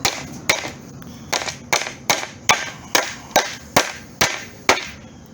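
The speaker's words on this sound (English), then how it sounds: "I'm going to use a 32-ounce framing hammer for this" A 32-ounce framing hammer strikes old pallet wood to back out nails. Around ten sharp, evenly spaced blows ring out close and loud, with no talking.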